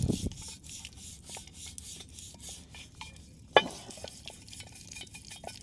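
Rusty metal scrubbed with a toilet brush under water, giving soft, irregular rubbing and swishing strokes with a sharper splash-like burst midway, fairly quiet and close, no talking.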